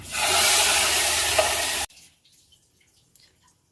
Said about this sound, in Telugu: ఈ ఎండుమిరపకాయలు కూడా ఈ విధంగా వేసి ఇది పప్పులో ఇలా వేసేయాలి